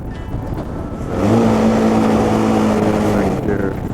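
Vehicle engine pulling in third gear on a road in Bali, Indonesia, a steady close drone that swells and holds a sustained tonal hum before easing slightly toward the end.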